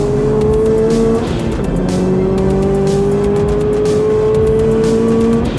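A Subaru cornering hard, its tires squealing in long sustained tones over a loud engine drone, with the pitch sliding as the car turns. No talk is heard.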